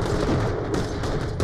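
Gunfire from a handgun in Borderlands: The Pre-Sequel, a dense, continuous run of loud shots with sharp bursts near the end, close and alone with no talk over it.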